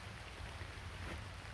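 Rain falls outdoors on a muddy hiking trail in Ohio's East Fork area, making a steady, even hiss with a low rumble beneath and no voices.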